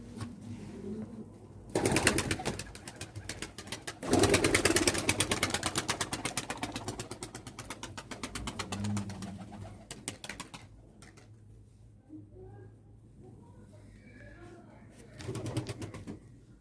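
Soft pigeon cooing with rustling and fluttering bursts, fairly close, broken by a few loud broadband noises; no talking.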